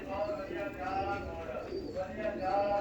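A pigeon coos softly in repeated low warbling phrases, with someone talking over it throughout.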